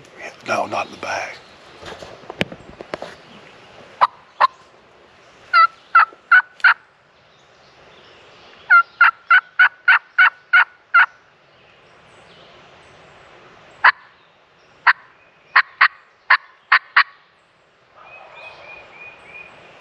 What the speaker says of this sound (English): There's turkeys on both sides of us gobbling somewhere.